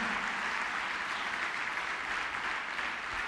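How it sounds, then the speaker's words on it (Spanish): Sustained applause from a church congregation during a sermon, a dense even wall of clapping heard on its own from start to finish. "No, más fuerte ese aplauso"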